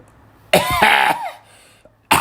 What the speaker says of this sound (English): Oh, I didn't like that cough.